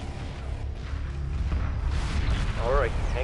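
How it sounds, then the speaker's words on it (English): Space battle explosions in the video game Homeworld Remastered rumble as a dense, continuous wall of deep booms and crackling blasts, with a brief voice near the end. "This explosion effects, though, are pretty great."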